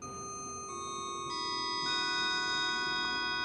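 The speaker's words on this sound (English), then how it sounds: "We could also do mantle clocks, which sounds pretty cool." Synthesizer playing a mantel clock chime, sustained bell-like tones entering one after another and layering into a steady ringing chord, clear and moderately loud.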